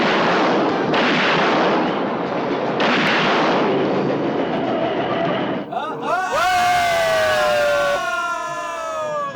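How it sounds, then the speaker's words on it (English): A Volkswagen sedan's trunk explodes in a film scene, heard as a loud, sustained roaring blast with crackling debris, cut off after several seconds by a different sound of rising and falling tones. "The trunk exploded."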